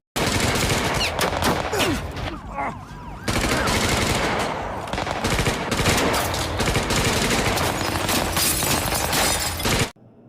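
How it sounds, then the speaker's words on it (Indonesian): Dense, rapid gunfire rattles through a shootout scene in the Indonesian film Dara, with police and gunmen exchanging shots; loud bursts of automatic fire and shattering impacts run almost continuously before cutting off abruptly. "Dan di sini terjadi lagi aksi saling tembak menembak."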